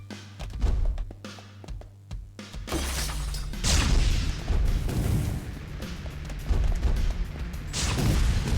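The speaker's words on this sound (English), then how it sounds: "No! Stupid explosion." Loud booming explosions and crashing blasts from the Mr. Shifty video game come in repeated bursts over a dense rumbling background, with sharp clicks and hits in between.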